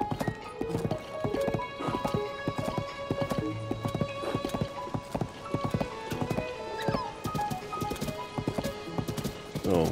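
Rhythmic clip-clop of horse hooves galloping steadily across open country in Zelda: Tears of the Kingdom, continuing for the whole stretch with faint in-game ambience underneath.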